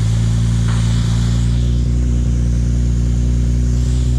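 The big turbo 1JZ engine of a Toyota Soarer, making about 700 brake horsepower, drones loud and steady up close, a constant heavy engine hum with no clear rise or fall.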